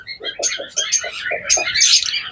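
A lutino red-eye and par blue pair of pet birds calling close by, a quick series of short chirps and whistled notes in rapid succession, fairly loud and clear, no speech.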